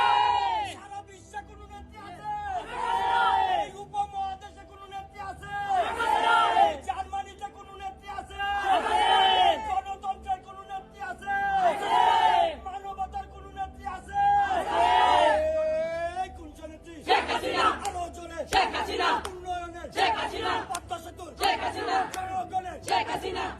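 A crowd chants the Joy Bangla slogan at a rally in Bangladesh, loud voices rising together in repeated rhythmic calls every few seconds, with a leader's call and a massed response.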